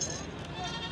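Goats bleat at a busy livestock market, with a steady crowd murmur and overlapping voices filling the background throughout.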